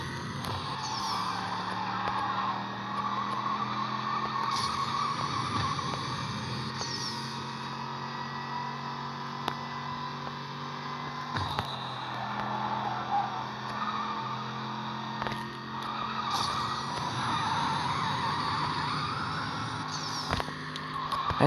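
A car in the mobile racing game Need for Speed No Limits drifts around corners. Its engine drones steadily and shifts gear, with scattered tire squeals during the slides and no talk.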